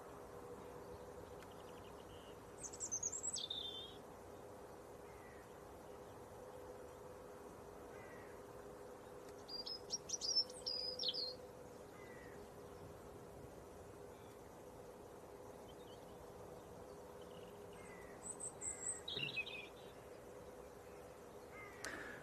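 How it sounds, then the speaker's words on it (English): Faint, distant birds chirp and call in short scattered bursts at Leeds Bradford Airport, over a quiet, steady low hum of background noise. "It's actually quite therapeutic standing here listening to all the birds."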